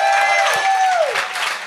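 Loud applause and cheering from a comedy show crowd fills the room, a thick, continuous roar of clapping with a whistle-like tone gliding downward over it.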